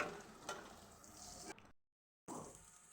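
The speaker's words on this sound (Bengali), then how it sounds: "তো এখানে আমি তেলের মধ্যে পেঁয়াজ কুচি আর কাঁচামরিচ ফালি দিয়ে দিয়েছি।" Chopped onion and sliced green chili frying in oil make a steady, soft sizzle that cuts out completely for a moment, then returns just as before.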